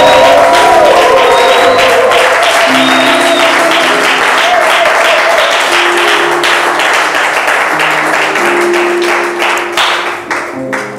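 A church congregation applauds and cheers loudly, a dense sustained wash of clapping and voices that carries on throughout before thinning slightly at the very end.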